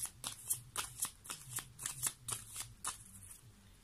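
Playing cards are shuffled during a tarot-style card reading, giving a rapid series of crisp riffling bursts, about a dozen slaps in close succession, near and clear with no talk.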